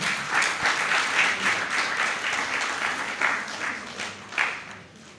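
Audience applause at a book launch, a warm, continuous patter of many hands clapping that swells and eases slightly in waves before tapering off toward the end.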